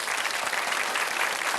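Steady, dense applause from a quiz-night audience, many hands clapping together at an even, full volume with no pauses.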